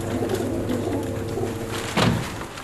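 City pigeons coo softly in a low, rolling rhythm over a steady background hum, and a louder flutter or bump comes near the end.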